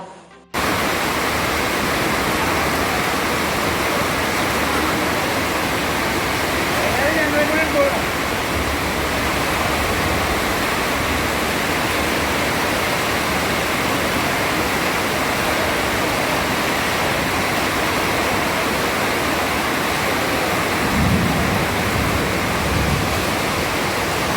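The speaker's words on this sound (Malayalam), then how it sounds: "ശക്തമായ മഴയിൽ ഗുരുവായൂർ ക്ഷേത്രനടയിൽ വെള്ളക്കെട്ട് രൂക്ഷം" Heavy monsoon rain pours down steadily at the Guruvayur temple entrance, where floodwater has collected, making a dense, unbroken wash of hiss and splashing that holds its strength from start to finish.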